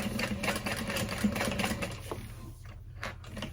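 A sewing machine runs in a steady rapid stitching burst, close up, sewing near a handbag zipper, then slows and stops with a few faint mechanical clicks.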